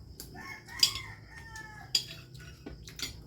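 Chickens cluck and a rooster crows at a rural Filipino home, the calls overlapping in short bursts with a few sharp peaks, at moderate distance over a low ambient background.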